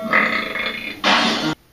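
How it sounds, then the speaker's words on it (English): A loud, close burp in two drawn-out guttural bursts, the second rougher and louder, then cut off abruptly. "that's like the second burp in the matter of like 10 seconds"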